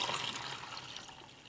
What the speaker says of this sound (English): And I'm going to pour this one with water.